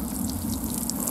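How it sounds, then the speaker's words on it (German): Water is poured onto a pile of firewood with a continuous splashing, trickling wash and small irregular drips, close and moderately loud, with no talk. "Wegen der Inflation des Holzpreises muss ich jetzt das Holz gießen."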